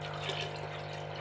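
Water poured into a cooking pot while making bele saaru lentil soup, a short continuous rushing, splashing pour heard up close with a steady hum underneath.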